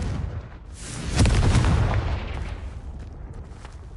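A Confringo blasting-curse explosion in Hogwarts Legacy: one loud, deep boom erupts about a second in, swells and rumbles, then fades into a lingering low roar over game background.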